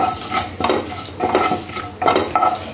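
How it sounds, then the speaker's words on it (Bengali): Onions frying in hot oil with cumin seeds, a constant close sizzle broken by three or four rhythmic bursts of spatula stirring and scraping against the pan. "পেঁয়াজটাও লাল করে ভাজতে হবে"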